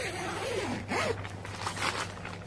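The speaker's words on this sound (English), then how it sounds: "Oh, pulled those zippers." A dome tent's zipper is pulled in a few quick, rasping strokes, close and clear, with short pauses between the pulls.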